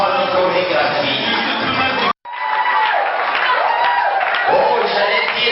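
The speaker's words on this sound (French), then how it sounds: "des acclamations nourries, des acclamations nourries" Wedding guests cheer and whoop in a loud, close crowd roar, cut by a brief silence and then resuming, with voices shouting over scattered clapping.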